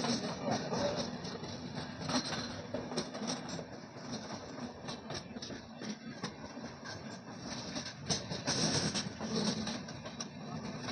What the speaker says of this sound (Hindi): अभी 1233 मुंबई मैंगलोर एक्सप्रेस हमको ओवरटेक करते हैं